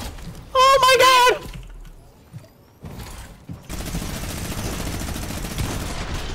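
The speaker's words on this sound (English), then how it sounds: "The Brutus minigun! I hate that thing!" Brutus minigun fire in Fortnite, a dense sustained stream of rapid shots running from mid-clip to the end, loud and continuous, preceded by a brief high synthetic tone burst and a quiet pause.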